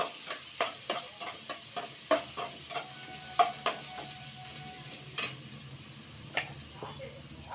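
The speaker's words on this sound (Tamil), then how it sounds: "மிளகுத்தூள், ஜீரகத்தூள், பூண்டு தட்டி வச்சது இதெல்லாம் போட்டு நல்லா கிளறி விட்டுக்கணும்" Rasam with pepper powder, cumin powder and crushed garlic is stirred in a pot, giving a regular series of light spoon taps against the pot over a faint, low simmering sizzle.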